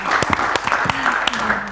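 Audience applause at a live show, a brief burst of close clapping mixed with talk and a faint tonal sound running underneath.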